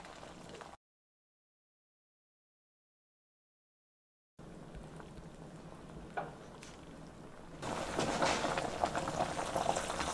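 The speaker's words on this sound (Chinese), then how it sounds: "锅开嘞，下菜。" Broth bubbles steadily in a northern Shaanxi oil-free hotpot. The soft rolling boil cuts out briefly, then returns and grows livelier and louder toward the end.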